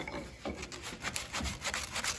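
Close, quick rasping strokes of sandpaper rubbing along a wooden edge, several short passes in a row.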